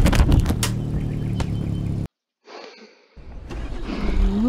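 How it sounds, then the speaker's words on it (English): A car drives in the video game Radical Relocation, with a steady engine and road rumble that cuts out abruptly, returns thinner after a pause, then swells back to full strength. "Just driving forwards."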